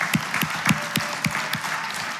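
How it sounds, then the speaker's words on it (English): Church congregation applauding in a hall: a short run of loud, evenly spaced claps, more like a few people clapping in rhythm than a big crowd. "if we could all just give him a round of applause on the live stream"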